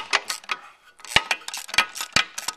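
A 3/8 socket bar tightens an oil plug on a Chevrolet gearbox during clutch replacement, producing sharp metallic clicks and ratcheting ticks in quick irregular bursts with short pauses between them.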